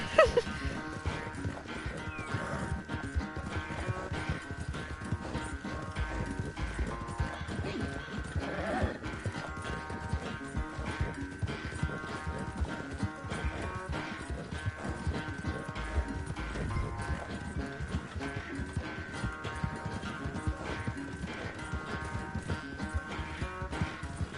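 Steady rhythmic hoofbeats of a galloping horse in Red Dead Redemption 2 run throughout, with occasional whinnies and a constant game-like background hum, no talking.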